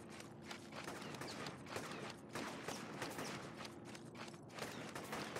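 Gunfire rattles through a street battle in the game Infamous, shots crackling in uneven bursts at moderate distance amid steady mechanical background noise, no voices.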